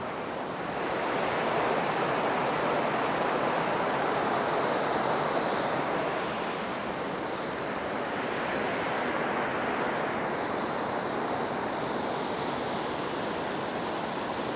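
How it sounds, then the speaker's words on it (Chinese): Waterfall pouring down beside Changchun Shrine in Taroko Gorge, Hualien, Taiwan, a loud continuous roar of falling water that stays steady throughout, with no talking. "而且旁边都有很明显的瀑布声音"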